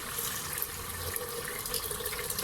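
Half a litre of water poured into a pot of roasted black chickpeas, a steady close splashing stream running without pause from start to end, with no talk.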